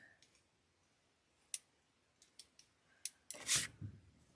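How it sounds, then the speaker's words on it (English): Scissors or wire cutters snipping frayed decorative mesh for a wreath, a handful of sparse, crisp clicks close up, ending in a louder rustling cut of the mesh. "You can use your scissors or your wire cutters."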